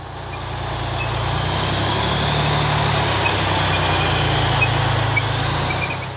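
An M60 tracked tank's engine runs as a steady, loud, close drone with a low rumbling throb that holds even for the whole stretch, and no voices are heard.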